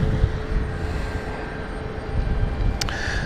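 An airplane departs London City Airport, heard as a steady broad engine roar with a faint tonal whine, distant and continuous throughout.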